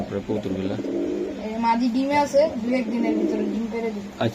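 Racer and high-flyer pigeons at a pigeon market coo in soft, repeated throaty bursts close by, mixed with people talking.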